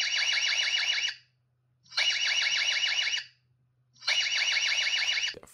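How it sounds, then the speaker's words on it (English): A security camera's built-in alarm, set off manually, sounds three loud, piercing warbling siren bursts of about a second each, separated by brief gaps, with a low steady hum underneath. "If I press it right now, it will trigger the alarm manually."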